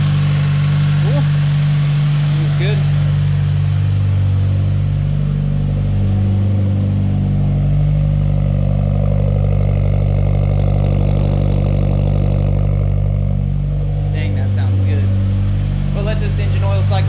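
A 2020 Subaru WRX engine idles steadily after an oil change, a loud, close, continuous low rumble with no break. Brief speech is heard over it near the beginning and again near the end.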